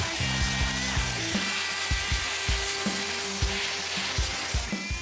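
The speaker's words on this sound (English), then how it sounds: "this dustless blasting system has a 60-minute runtime, which means I don't have to stop as often to refill with media" Dustless blasting strips paint from the sheet metal of a classic Bronco: a loud, continuous hissing spray with a low motor drone and rhythmic pulsing thumps from the equipment.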